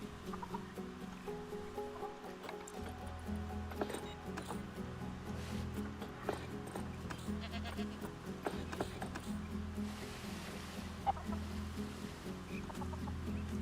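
Chickens cluck repeatedly in short, scattered bursts within a zoo-building video game called Zany Zoo, set against a soft, busy ambient bed of other animal calls.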